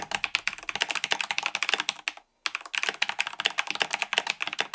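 Rapid, steady typing on a modded mechanical keyboard with lubed milky yellow switches, palm jellies and a foam mod, close and crisp with dense clacking keystrokes and a brief pause midway.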